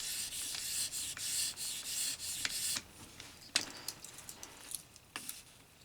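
Light finishing strokes of a knife blade across EdgePro Apex sharpening stones, a soft rhythmic scraping that grows quieter and sparser as the strokes lighten, close and alone.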